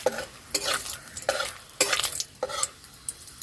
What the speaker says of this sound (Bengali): ওই তেলের মধ্যে গোটা গরম মশলা, শুকনো লঙ্কা আর তেজপাতা ফোড়ন দিয়ে দিচ্ছি।